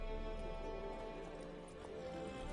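Horse hooves clip-clop steadily on the ground in The Witcher 3, a soft, continuous rhythm under a steady ambient hum of the game world.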